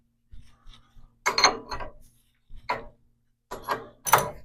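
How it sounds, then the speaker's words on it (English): A fork cap tool working on a KYB motorcycle fork cartridge gives several short metallic ratcheting clicks in separate bursts, close and fairly loud, with quiet gaps between them. "Instead, I'm just going to use our fork cap tool."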